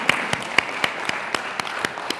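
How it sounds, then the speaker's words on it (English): Audience applause fills the room, with one set of sharp claps standing out in a steady, even beat. "I want you to take a round of applause for yourselves for coming"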